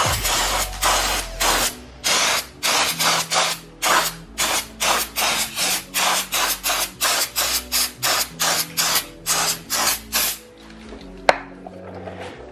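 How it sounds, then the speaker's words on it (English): Brake parts cleaner is sprayed onto brake calipers in a long series of short, loud aerosol bursts with brief gaps between them, ending in quiet with a single sharp click. "You're gonna go ahead and spray some brake parts cleaner on it just to clear off any dust and brake sludge."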